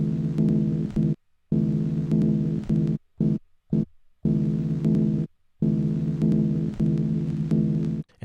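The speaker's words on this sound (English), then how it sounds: "But if I press the pad and hold it down, you're going to hear more of the sound." A sustained, humming sampled tone from a held pad on a VMPC2000XL sampler emulator plays in long stretches, chopped off abruptly several times by sudden silent gaps, loud and close.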